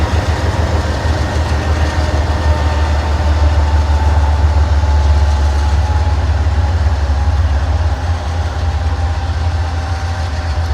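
Loaded coal freight train rolling past with a rear distributed power locomotive running lightly, a steady loud low rumble of wheels and cars with a faint engine drone, continuous throughout and without talk.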